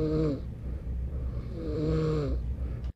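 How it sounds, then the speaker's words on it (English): A sleeping person snores, two slow drawn-out breaths with a rattling, buzzing tone, close and fairly quiet, no talking. "I can't deny that I snore any longer."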